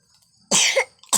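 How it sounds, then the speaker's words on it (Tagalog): A single harsh cough close to the microphone, followed by the start of another, after a moment of near silence. "May ubo pa din."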